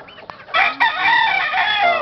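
A young gamecock stag crows once, a loud, close, strained cock-a-doodle-doo that starts about half a second in and runs to the end, with a few faint clucks and clicks just before it.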